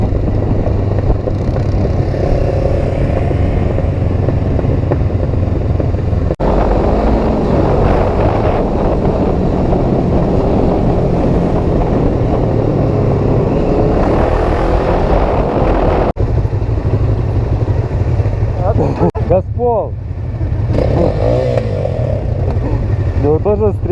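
A Honda CB500 and a Suzuki Bandit 600, the Bandit recently crashed, ride through town: a continuous loud engine drone with rising and falling revs, heavy wind buffeting on the microphone, and occasional voices.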